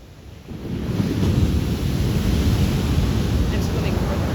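Big ocean waves break in heavy surf where lifeguards train, a loud, steady roaring wash that swells after the first half second and carries on with gusty wind buffeting the microphone.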